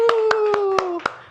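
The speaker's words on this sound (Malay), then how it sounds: "Semua orang tepuk tangan." A sustained voiced tone slides slowly downward while a class of young primary pupils claps in a steady, evenly spaced rhythm of six or so sharp claps, loud and close.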